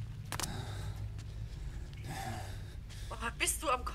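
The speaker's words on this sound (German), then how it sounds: "Oh, bist du am Keuchen, ey, hör mal." A character in the Green Hell jungle survival game pants out of breath in short, ragged gasps, with people talking over the breathing.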